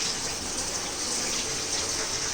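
Water is poured steadily over rice in a pot while making chicken biryani, a soft, continuous gushing hiss with no break.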